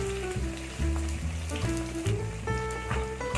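Onions sizzle steadily as they sauté in a pan for Tamil-style fish curry (meen kulambu), a continuous crackling hiss beneath a melodic music backing.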